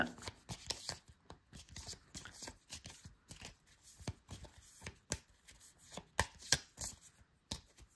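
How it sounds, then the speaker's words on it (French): A deck of cards is reshuffled by hand during a solo tabletop game of Maquis, a quiet run of soft riffles, taps and shuffling clicks, close and irregular, with no talk. "On va remélanger le deck."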